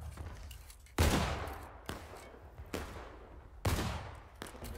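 Musket volleys crack out in the War of Rights game, a few loud, booming shots with long echoing decays, interspersed with scattered quieter distant fire.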